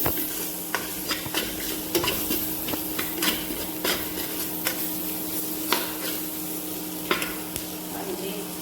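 Steady stirring of potatoes, green chillies and paneer bhurji in a sizzling pan, with repeated scraping clinks of a utensil against metal over a constant frying hiss, no talking.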